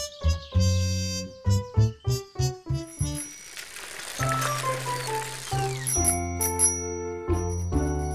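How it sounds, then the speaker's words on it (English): A bicycle bell rings in quick repeated dings, then a run of bright musical chimes and tones from a children's cartoon, loud and clear, with no talking over it. "That's the bell of Rat's bike"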